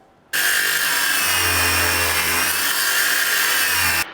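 Loud power-tool cut through 2 by 1/4 inch steel for a ring build, a sudden high grinding whine starting abruptly, holding steady and close for about four seconds, then stopping.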